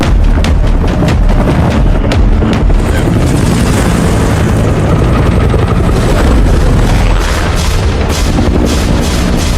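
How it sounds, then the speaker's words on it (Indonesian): A loud, continuous helicopter drone with rapid rotor thumping, dense and close throughout, with occasional heavier booms mixed in, from a police chase scene with gunfire in the film Ambulance. "Kemudian terlihat helikopter dan dengan cepat Denny menembaknya"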